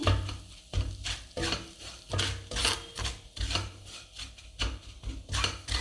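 Water chestnut flour is roasted in ghee in a pan over low to medium flame, the spatula scraping and rubbing in a steady back-and-forth rhythm, close and alone.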